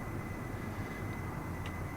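A basic jet space plane engine drones in Kerbal Space Program, a steady low rumble with a constant whine above it, even throughout.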